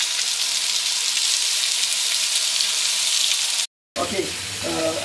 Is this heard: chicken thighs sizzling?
yes